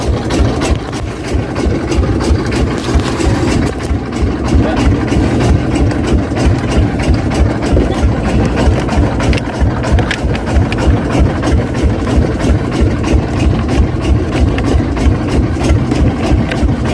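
A boat engine idles during a river crossing in Aceh Tamiang, a loud, steady low rumble with a fast chugging pulse that runs unbroken from start to finish, close by and without talk.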